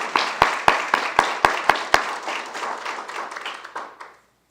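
Audience applause for two speakers at a Tampa 130th birthday history talk, a room of clapping hands with a few sharp close claps at first, fading out over about four seconds.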